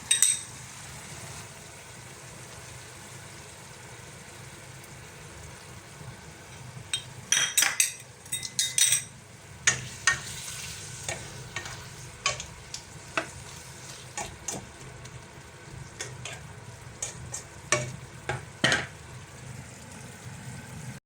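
Beef stir-frying with sauce in a pan, a soft steady sizzle broken by a series of scattered clinks and scrapes of a utensil against the pan.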